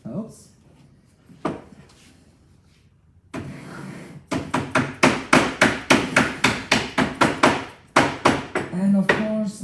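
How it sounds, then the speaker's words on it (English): A hammer knocks a wooden dowel connector into place during joining-machine work, a run of sharp, closely spaced blows in steady rhythm after a few quieter taps and handling noises. "Okay, a hammer helps."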